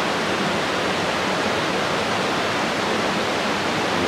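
Water flows steadily near the Amakund waterfall, a loud, continuous rushing hiss with no breaks and no talking.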